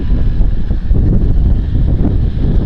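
Gusty light breeze buffets a Moukey DSLR external microphone fitted with a wind muff, making a steady, close, low rumbling roar that never lets up.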